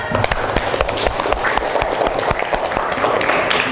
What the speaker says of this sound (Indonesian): Terima kasih, tepuk tangan untuk Destina